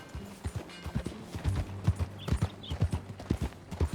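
Horse hooves clip-clop in a steady walking rhythm in Red Dead Redemption 2, close and moderately loud, with a brief snort or whinny mixed in.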